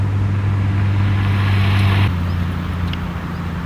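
Mercedes-Benz 300 SL engine running steadily nearby, a loud low droning hum whose pitch drops slightly about halfway through as the engine note changes, with no talk over it.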